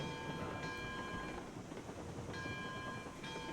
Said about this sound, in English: we could certainly use a little more echo going on the whistles